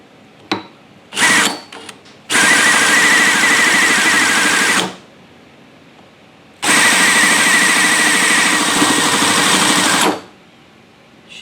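ENJOMOR 10cc Whippet flathead model gasoline engine, a few short sputtering catches, then two loud, steady buzzing runs of a couple of seconds each separated by a pause, close up.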